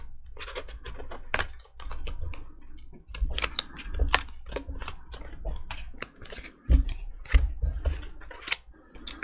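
Tarot cards are shuffled by hand in close, crisp bursts of riffling and slapping, the papery flicks coming in uneven clusters with short pauses between them.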